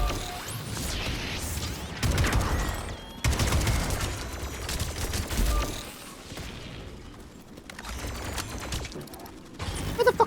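Turret gunfire in Atomic Heart sounds as rapid bursts of mechanical shots and clattering impacts, coming in several loud clusters separated by brief lulls, with dense crackling bursts of fire across the whole stretch.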